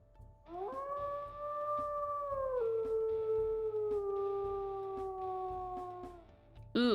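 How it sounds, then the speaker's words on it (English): A wolf in the WolfQuest video game, a pup from the Wildfire Pack litter, gives one long, clear howl that holds steady, then steps down in pitch and slowly fades, with no other sound around it. "we'll listen to her howls"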